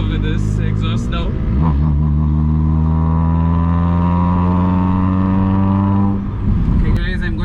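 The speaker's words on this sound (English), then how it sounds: "he's showing off with this exhaust now" A tuned Hyundai Accent with an aftermarket exhaust revs hard and holds at high RPM, a loud, close, sustained engine roar that rises, hangs steady for several seconds, then drops before a brief blip at the end.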